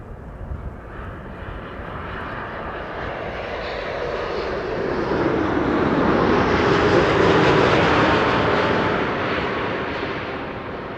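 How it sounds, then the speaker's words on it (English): A KLM Boeing 787-9 Dreamliner, flight 646 from New York JFK, lands at Amsterdam Schiphol, its jet engine roar swelling steadily to a loud peak overhead and then slowly easing off, heard alone without talk. "This is KLM flight 646 arriving from New York JFK, 7879 Dreamliner"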